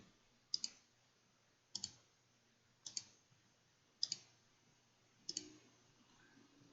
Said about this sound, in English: I'm going to click on each one and add them independently